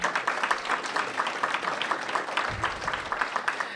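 Applause for school board members at a mayoral scholarship announcement, a fairly dense patter of clapping from a room audience that holds steady for a few seconds.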